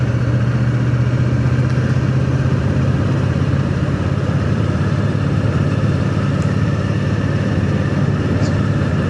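A Triumph Bonneville motorcycle cruising steadily in fourth gear at about 60 km/h, its engine a constant low drone with wind noise, heard from the rider's position.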